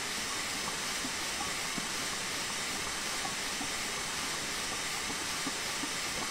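A steam train running under brake control, a continuous broad hiss and rumble heard from inside the cab, steady and even with no break.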